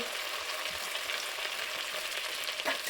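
Spices being stirred and fried for lobster malaikari over a low-medium flame, an even close sizzle with faint stirring scrapes and one brief clink near the end.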